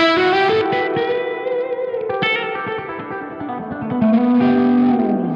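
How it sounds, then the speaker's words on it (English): Electric guitar chords ringing through a reverb effect set for mostly wet return, the tone bright with a slight crunchy edge on top and a wash of echoing tail, loud and alone without talk. "Now, what I'm noticing with this reverb is it absolutely adds a little bit of like harshness on the top."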